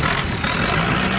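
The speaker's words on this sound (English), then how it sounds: "That's the engine of a long tailboat." A long-tail boat engine runs at a loud, steady, rough drone throughout the brief stretch, with no voices over it.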